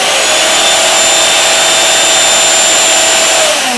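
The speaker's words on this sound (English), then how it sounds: "we will turn on the vacuum cleaner." A vacuum cleaner runs at a steady, loud level on a woodworking setup, giving a continuous airy roar with a thin whine above it. The sound stays constant throughout, with no talk.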